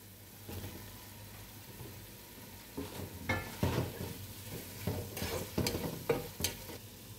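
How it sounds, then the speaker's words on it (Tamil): Tomatoes stirred into a frying biryani base masala with curd in a home kitchen: a soft continuous sizzle under repeated scraping strokes of a spoon against the pan, growing busier and louder in the second half, with no talking. "இப்போ வந்து கர்ட் போட்டு முடித்த பிறகு நம்ம தக்காளி ஆட் பண்ணிக்கலாம்."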